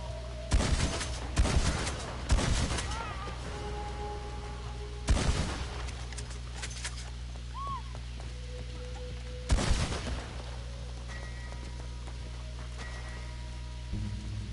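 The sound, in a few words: gunfire from cops in Red Dead video game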